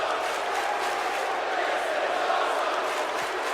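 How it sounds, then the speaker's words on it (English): A wrestling crowd at the CME Autumn Blaze 2017 event roars in a steady wash of cheering and yelling that fills the arena at a constant level. "The crowd is loving it."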